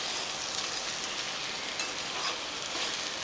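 Bhindi (okra) masala seasoned with salt is gently mixed in a pan, giving a steady, even hiss of sizzling and soft stirring throughout, with no talking.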